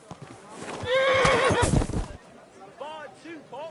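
Horse in Kingdom Come Deliverance 2 gives a loud, close whinny that rises and falls, over clip-clopping hooves and background game chatter, then fades to quieter murmurs.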